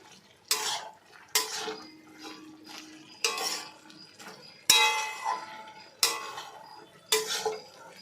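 Biscuits poured by hand into a tin container, six separate rattling clattering bursts of dry pieces against metal, each fading quickly, close and fairly loud without speech.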